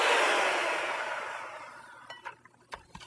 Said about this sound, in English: And you're just going to mix it until it's creamy, so all of it is incorporated together.